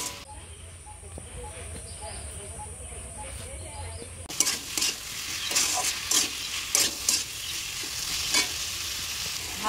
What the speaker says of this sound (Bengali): মশলায় তেল ছেড়ে দিতে আমি ভাজা সবজিগুলো দিয়ে দিব